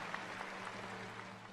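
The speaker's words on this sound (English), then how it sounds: "A video recently surfaced showing an audience applaud" An audience applauds while an animated nuclear attack plays. The clapping is faint and distant, a continuous patter over a low hum that lasts only a moment.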